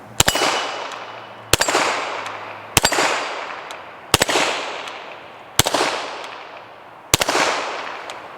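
Six single 9mm shots from a Canik Mete SFX pistol fired at a steel plate rack on a range, each a sharp crack spaced about 1.5 seconds apart with a ringing metallic ping and decaying echo.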